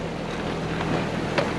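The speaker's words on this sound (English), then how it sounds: "I don't know if you can hear in the background, the engine's on." A sailboat's engine runs steadily in the background while under full sail on the Bras d'Or Lakes in Nova Scotia in a 10 to 15 knot wind, a low continuous drone mixed with wind noise and water.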